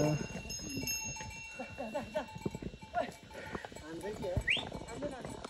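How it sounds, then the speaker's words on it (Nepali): Horse hooves clip-clop on a trail as the animal approaches, a series of uneven knocks under nearby chatter, with a bell-like jingle and bleating livestock faint in the background. "यता चाहिँ घोडा आइरहेको छ।"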